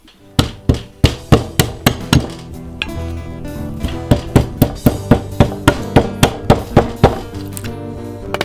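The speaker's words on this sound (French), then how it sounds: "Plus qu'à équerrir tout ça au ciseau." Mallet blows on a wood chisel squaring out a cut in timber for a custom-built wooden scaffold, a run of sharp, loud percussive knocks in an irregular then steady rhythm, up close with no talk.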